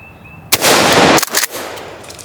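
A single sharp, loud shotgun blast fired at wild turkeys during an opening-day hunt in Maryland, followed by a brief echoing decay in the open air, with no talk.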